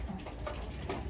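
A female racing pigeon coos softly nearby, a few low throaty notes over a faint background murmur.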